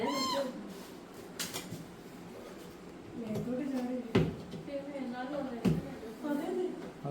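A cat meows several times, caught near a kitchen chimney, the calls rising over steady background noise and mixed with people talking nearby.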